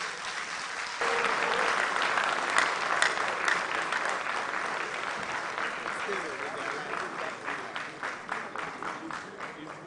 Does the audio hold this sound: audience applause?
yes